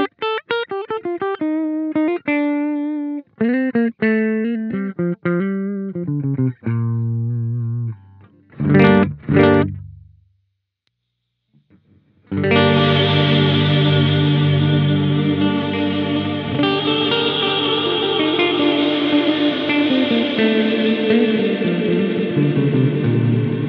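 Electric guitar played through an EarthQuaker Devices Transmisser reverb pedal: clean plucked notes and chords ring out, a brief pause, then a loud swelling wash of long, shimmering reverb sustains.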